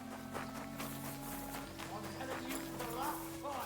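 Horse hooves clip-clop in a steady walking rhythm in Kingdom Come Deliverance 2, moderately close and running through the whole stretch beneath game music and someone talking.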